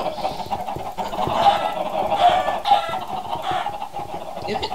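Many chickens in the Minecraft video game cluck continuously in a busy flock, their overlapping calls steady and close.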